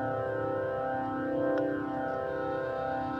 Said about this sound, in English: the kind of pedestrian safety noise you hear when the vehicle is at lower speeds